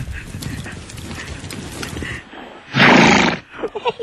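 Background chatter gives way to a loud, close whinny from a tired horse lasting under a second, followed by a few short snorting bursts.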